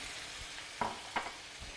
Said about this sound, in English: Now let it cook a little bit in the wine.